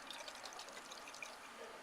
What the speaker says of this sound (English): And so if we shake this up, Melissa, do you want to shake that up?